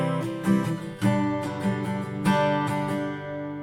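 Guitar strummed in a quick down-up pattern on the chorus of a song, a short, close, ringing passage with clear accented strokes and no voice.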